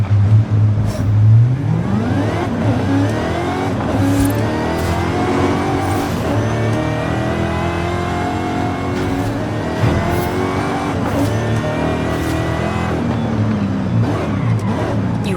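A Volkswagen Golf GTI revs hard in Forza Horizon 5 while racing, its engine note climbing and falling through repeated gear changes. It stays loud and close for the whole stretch, with no talking.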